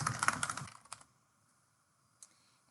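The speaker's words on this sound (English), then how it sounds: "And then you'll type your name right here." A computer keyboard is typed on in a quick close burst of keystrokes, followed by a couple of isolated taps, near silence, then one last key press.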